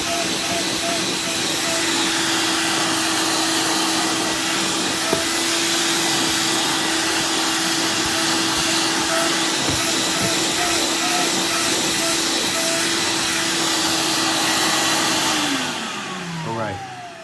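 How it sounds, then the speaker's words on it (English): A vacuum cleaner runs loudly and steadily on carpet with a constant whine and airy roar, then powers down near the end. "take your vacuum, it's gonna be a little noisy here for a second"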